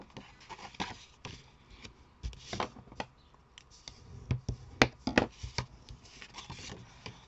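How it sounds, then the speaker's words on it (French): Paper being creased and folded into an accordion for a gift card, a close, quiet string of soft rubs, scrapes and taps from fingers pressing along the folds, uneven in rhythm and with no talking. "vous allez marquer tous vos plis"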